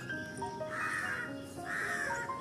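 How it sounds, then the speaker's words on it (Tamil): A crow caws twice in the morning, two drawn-out harsh calls about a second apart, clear and moderately distant over a faint background hum. "காக்கா கத்துதா"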